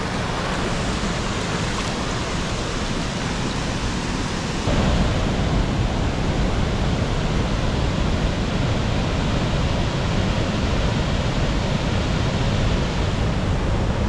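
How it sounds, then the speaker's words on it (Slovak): A waterfall near Pakse, Laos, pours as a loud, continuous broadband roar of rushing water. It is steady and close, with a slight jump in level partway through. "No tu je ten vodopád."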